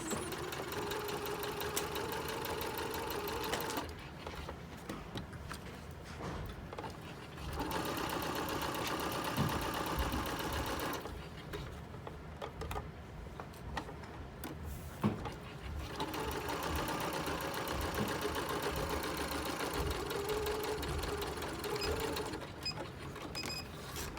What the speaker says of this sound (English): sewing our little tiny 1/8 inch fold here